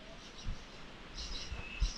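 Several faint bird chirps and calls inside a large walk-through aviary, scattered at irregular moments against quiet background hiss.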